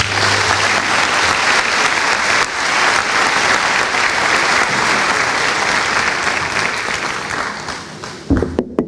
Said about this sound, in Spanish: que le damos la palabra al Padre Francesco, para el que pido un fuerte aplauso